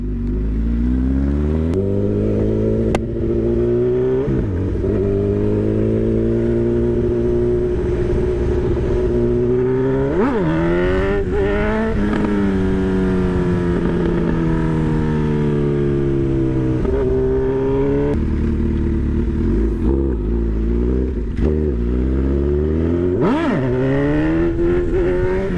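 Honda CB1000R Hornet motorcycle engine revving up and down repeatedly, loud and close, with rising and falling pitch sweeps from throttle blips and gear changes, no talk.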